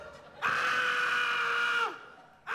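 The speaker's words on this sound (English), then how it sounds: "I thought I heard a scream." A single sustained scream from a stage comedy performance rings out loud for about a second and a half, then breaks off, with the start of another cry just after.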